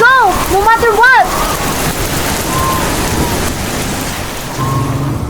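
Steady rain sound effect in a radio drama, a dense hiss of falling drops that runs the whole time, with a wavering voice rising over it at the start before the rain carries on alone.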